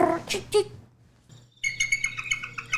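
A human voice mimics an eagle, giving quick high chirps and warbling tweets in short bursts with brief gaps between.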